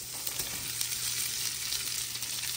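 Garlic frying in a pan for fried rice, a steady, even sizzle that holds without pause and without talk.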